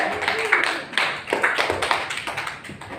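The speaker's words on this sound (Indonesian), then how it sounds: "Kita beri aplaus dulu untuk Eca" Classroom students clap for a classmate during a physics lesson, a short burst of scattered, close handclaps with a fairly quick, uneven rhythm.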